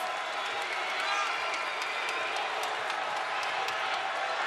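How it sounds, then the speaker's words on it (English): A college basketball crowd at Western Kentucky cheers and claps as the home team heats up, a broad sustained roar with scattered whoops, while a commentator talks over it. "a game-high 16 as the crowd comes to life"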